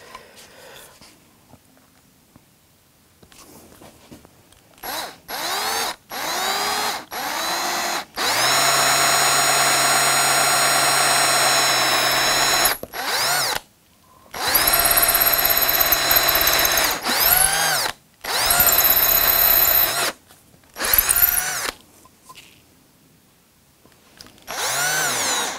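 A power drill boring holes in wood for an electric guitar build whirs in several bursts, short spins followed by long sustained runs, loud and close, with pauses of quiet between.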